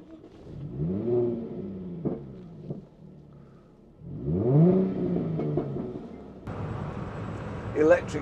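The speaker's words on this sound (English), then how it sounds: "it has an engine note which just makes me happy. Listen." A Citroen Ami small electric car's drive note revs up and settles twice, a buzzy rising note close by, followed by brief rougher mechanical noise near the end.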